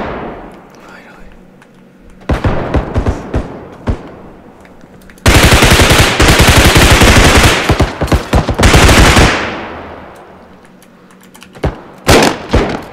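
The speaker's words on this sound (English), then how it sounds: "Okay, that was a shotgun." Gunfire in the BodyCam shooter video game: short bursts of sharp, loud shots, then a long stretch of rapid, dense firing, then a few scattered closing blasts.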